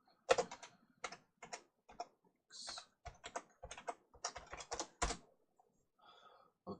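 Quick bursts of typing on a computer keyboard, close and crisp key clacks in irregular clusters with brief pauses, alone in a quiet room.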